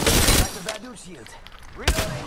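Gunfire in the Apex Legends game during a two-versus-three fight: a loud burst of shots at the start, then scattered impacts and crackle, and another sharp burst near the end, with game voice callouts in between.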